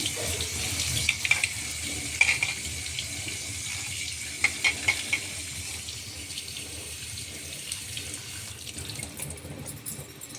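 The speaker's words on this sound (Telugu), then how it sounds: "తరిగిన కొత్తిమీరను వాటర్లో శుభ్రంగా కడుగుతున్నాను" Tap water runs steadily into a sink while chopped coriander is swished and rinsed, with a few light clinks, close and continuous.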